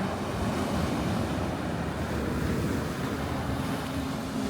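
Sea waves wash onto a Turkish shore at sunset, a steady broadband roar of surf mixed with wind buffeting the microphone, continuous and fairly close with no voices.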